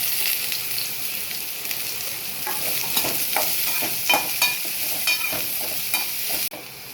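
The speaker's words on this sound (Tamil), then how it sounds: "இப்போ வந்து பாவக்காயில் போட்டு கொஞ்சம் வறுத்துக்கலாம்." Bitter gourd frying in hot oil, a constant close sizzle with repeated spatula scrapes and stirs, ending with a brief drop in level.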